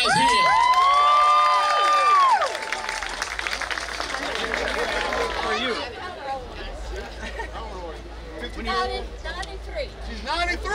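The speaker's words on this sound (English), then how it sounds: "Big round of applause to all these guys here." A festival crowd at a courthouse bandstand dedication in Houma, Terrebonne Parish, cheering, whooping and applauding, loud at first, then settling into scattered clapping and chatter, with children shouting.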